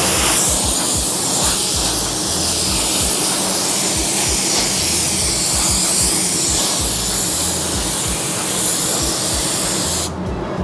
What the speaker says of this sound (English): And I use my little fan jet blower simply because anything that's in any cracks, it'll blow that out straight into my tack rag.